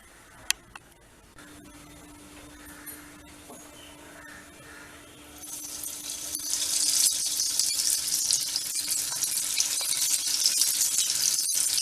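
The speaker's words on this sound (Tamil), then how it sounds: "இப்போ எண்ணெயில் பொரிச்சு எடுக்கலாம்" Vegetable semiya bird nest cutlets drop into hot oil and deep-fry, the quiet background swelling midway into a loud, steady bubbling sizzle that continues to the end.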